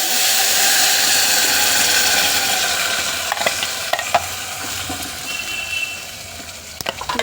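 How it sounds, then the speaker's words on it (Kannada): Ground masala added to a sizzling tempering and stirred, a loud steady fry hiss that fades slightly, punctuated by scraping and tapping of a spoon against the pot. "ಇವಾಗ ರುಬ್ಬಿರುವಂಥ ಮಸಾಲೆ ಇದಕ್ಕೆ ಹಾಕ್ಕೊಡೋಣ"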